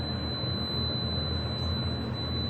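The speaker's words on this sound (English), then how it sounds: "sensors that beep as long as anything is blocking them" A modernized Otis elevator's door sensor sounds a continuous high-pitched beep while the door is blocked, holding steadily over a low background hum.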